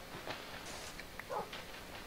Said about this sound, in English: Move, you stupid dog.